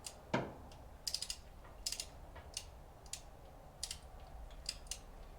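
Ratchet clicks from tightening pushrod guide plate bolts on a 1967 Mustang engine, heard as short bursts of rapid ratcheting spaced through a quiet barn, with one sharper metallic knock near the start.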